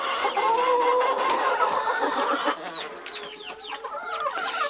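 Young laying hens cluck and murmur in a close, busy chorus, loud and continuous at first, then thinning into softer scattered clucks and squawks.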